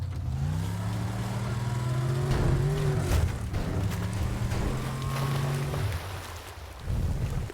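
A car spawned in the video game Teardown runs with a steady engine hum that rises and shifts in pitch as it revs, mixed with rough rumbling and wind-like noise, fairly loud and continuous.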